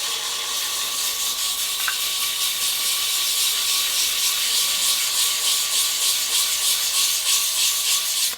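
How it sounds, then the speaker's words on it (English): Abrasive paper rubbing against a spinning elm lidded box on a wood lathe, a steady, loud hissing scrape with a faint rhythmic pulsing from the rotation, continuous throughout. "I've sanded through the grits now"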